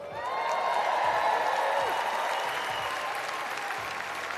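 A large audience at the 2024 Transplant Games opening ceremony gives a sustained round of applause, steady and full throughout, with a faint whistle-like tone and some background commotion mixed in.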